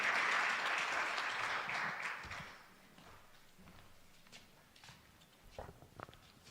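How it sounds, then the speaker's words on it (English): An audience at a School of Arts conference applauds a professor, a loud burst of clapping that fades after a couple of seconds into scattered claps and faint room noise. "Round of applause for Prof."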